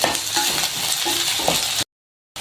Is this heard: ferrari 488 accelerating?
no